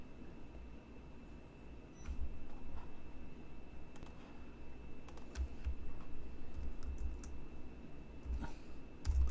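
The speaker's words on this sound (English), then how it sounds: "let me type in and come back" Someone types on a computer keyboard while setting up code, producing faint scattered key clicks over a steady low room hum, with no speech.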